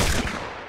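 A short burst of M6 rifle fire in a video game: loud, dense gunshots crowding the first fraction of a second, then a fading tail.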